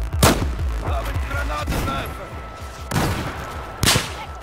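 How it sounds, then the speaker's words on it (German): Blind sniper rifle shots in Battlefield 4, three or four loud cracks with booming tails spaced about a second apart, over a rumbling battlefield backdrop. "Und zwar blind reinschießen."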